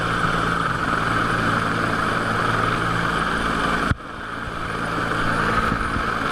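A rescue helicopter over the sea off the Townsville coast, near a capsized boat, makes a loud, steady rotor and engine roar with a brief sharp knock partway through before the drone resumes.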